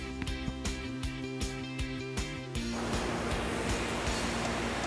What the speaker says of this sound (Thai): ตรงนี้น้ำไหลแรงดีครับ